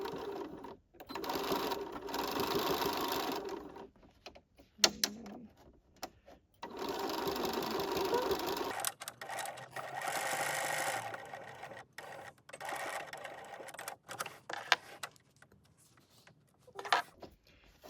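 Sewing machine stitching the back side of a large leather clutch bag with heavy thread, running in steady bursts of several seconds separated by pauses, close and moderately loud.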